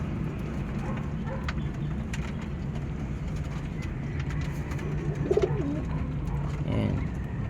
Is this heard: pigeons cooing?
yes